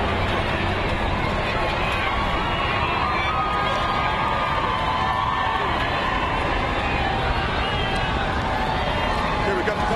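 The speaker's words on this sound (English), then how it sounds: "all the people cheering" A huge crowd cheering at the Dallas Mavericks 2011 NBA championship parade, a loud, continuous roar of shouts and cheers filling the whole stretch, with a helicopter overhead.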